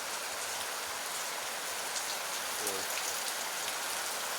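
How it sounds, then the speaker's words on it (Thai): Steady rain falls, a constant soft hiss of drops with no voices, even and unbroken throughout. "ฝนก็ตกสงสัยมันลงแล้ว"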